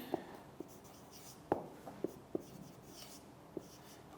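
Pen or chalk strokes sound during a lecture: scattered short taps and scratches, about half a dozen distinct clicks over a quiet room background, with no talk.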